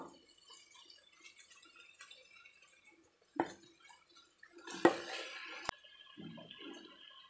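A little water added to marinated chicken biryani masala in a pot, faint short splashes and trickles with a couple of quiet knocks, close by and without talk.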